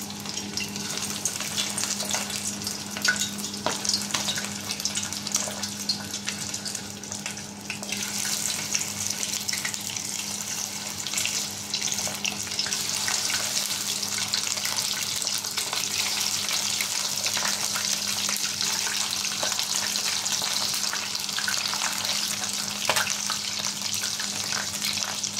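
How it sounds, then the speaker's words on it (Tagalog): Chicken skin for chicharon frying in hot oil gives a steady, close, bright sizzle that holds without pause, with faint crackles and stirring throughout and no one speaking. "Tapos, ipiprito na natin."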